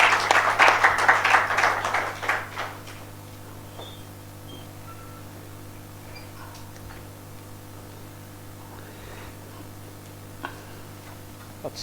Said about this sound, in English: let us give a big round of applause to Dr. Ravindraji to invite him to speak